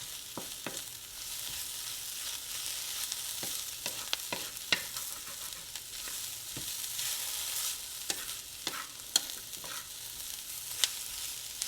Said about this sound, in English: the grease from that bacon helps cook the vegetables